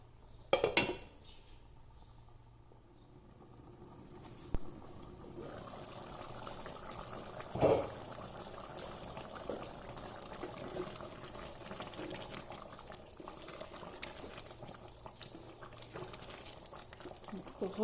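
Lahori chikar cholay, chicken and chickpeas, simmering covered in a pot: a quiet, steady low bubbling with a few soft clinks and a faint voice in the background.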